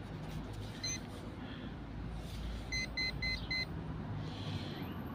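A small electronic device gives a short high beep, then a quick burst of four rapid beeps before falling quiet, heard close over a dull background rumble.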